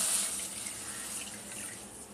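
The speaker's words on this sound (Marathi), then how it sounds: "ते हे अर्धी वाटी आपल्याला पाणी वापरायचं आहे पाकासाठी." Half a bowl of water pours into a pan for jaggery syrup in a kitchen, a short steady splashing stream, close and moderately soft, with no voices.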